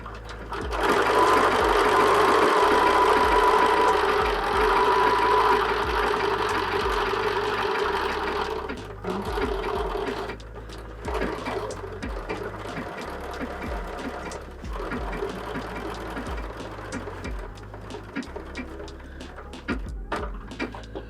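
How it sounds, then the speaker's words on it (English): A sewing machine runs a triple stitch in circles on a cushion cover, a loud, close, rapid rhythmic chatter of needle and feed that drops slightly in pace midway and carries on steadily with small pauses. "we're really just stitching our circles around and around"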